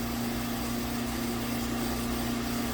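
A 2016 VW 1.8 TSFI engine idles with a misfire on cylinder 4. It gives a steady, close hum with a strong constant tone and no speech.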